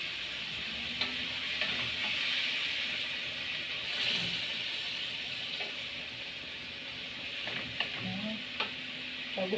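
Onions sizzle steadily in a hot pan while a utensil stirs them, with a few scraping clinks against the pan over the continuous frying hiss.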